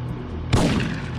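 A single sharp gunshot in the Syphon Filter 3 video game, loud and close, cracking out after a quiet lead-in and ringing briefly.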